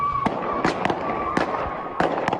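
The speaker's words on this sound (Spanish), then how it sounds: "Mira, así está Calama en este rato, a puro balazo." Sharp gunshot cracks ring through the streets of Calama, Chile, about six separate bangs in an irregular rhythm, some doubled, at middle distance over a steady background hum.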